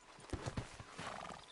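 A horse in the video game Red Dead Redemption 2 gallops with a few close hoof clip-clops, followed by a short whinnying neigh, quiet and brief.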